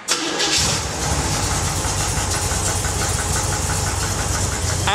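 A Corvette engine fitted with an upgraded ignition control system cranks for a moment, then fires and settles into a loud, steady, slightly lumpy idle close by.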